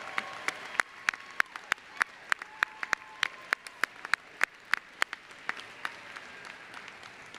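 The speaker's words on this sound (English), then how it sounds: "A round of applause for all of the hands, facilities, everybody." Scattered, sparse clapping at a University of Wisconsin-Parkside commencement ceremony, a few distinct hand claps ringing out at uneven intervals, fairly quiet and distant, with faint background murmur.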